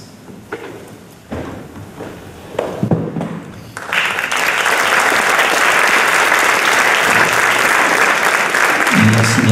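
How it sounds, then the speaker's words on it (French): Audience applause at an evening jazz concert event, starting with a few scattered claps and thumps, then swelling into sustained, full clapping from a crowd that holds steady to the end. "gardez vos applaudissements pour les musiciens"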